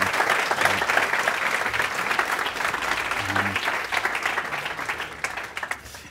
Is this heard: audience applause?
yes